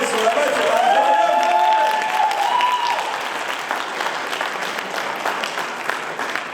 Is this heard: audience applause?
yes